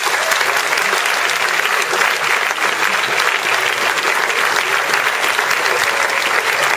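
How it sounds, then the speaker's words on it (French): A student talent show audience applauds in a hall with steady, dense clapping that stays loud and even throughout, and no voices stand out. "Pour Paul, j'aimerais que vous applaudissiez,"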